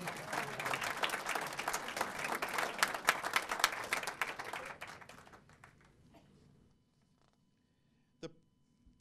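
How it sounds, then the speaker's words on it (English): An audience applauds after a mayor's swearing-in speech, a brisk burst of many hands clapping that stays full for several seconds, then tapers away into near silence with one stray knock near the end. "You can applaud."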